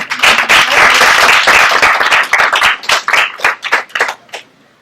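Audience applause welcoming a speaker to a talk on hermit crabs, dense clapping from a crowd that builds loud, then thins into scattered claps and fades out near the end.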